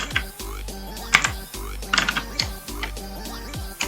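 Rapid irregular keystrokes on a computer keyboard, close and clear, as text is typed into Adobe Animate, with no voices.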